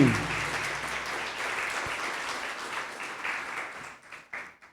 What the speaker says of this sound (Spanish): Le puedo dar un fuerte aplauso al Señor